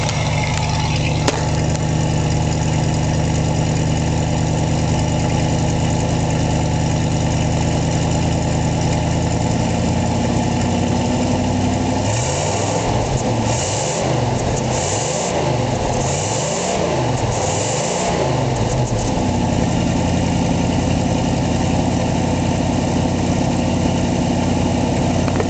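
Original, uncut 1976 Ford Bronco engine idling close up, with a steady low rumble throughout, a brief rougher stretch in the middle, and no talking over it.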